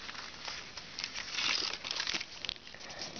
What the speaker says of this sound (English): And now I'm just going to fold along that crease.